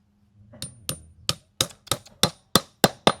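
Hammer strikes while working in a garden: about nine sharp, separate knocks spaced roughly a third of a second apart, close and fairly loud, with no talking.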